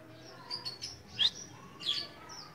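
Small strawberry finches give several short, bright chirps during feeding, a few quick calls in brief bursts heard fairly close against a quiet background.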